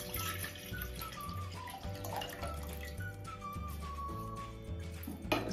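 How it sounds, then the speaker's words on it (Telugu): Water poured into a steel pot on a kitchen counter to make about half a litre of rasam, a steady running splash with faint background music throughout. "ముందుగా ఒక స్టీల్ గిన్నె పెట్టుకుని నేను ఒక హాఫ్ లీటర్ వరకు చారు తయారు చేయడానికి వాటర్ పోస్తున్నానండి."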